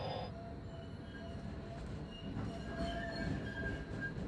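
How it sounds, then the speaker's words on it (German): A train moves along rails with a steady low rumble and faint squealing wheels, heard from inside at moderate level. "Irgendwann fährt die Bahn endlich weiter."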